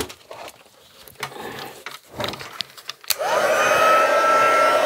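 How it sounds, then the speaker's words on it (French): A heat gun warms embossing powder on a handmade Christmas card. Scattered taps and handling noises come first, then the gun switches on and blows a steady, loud whooshing hum with a whining tone until the end. "Et tu prends ton pistolet chauffant."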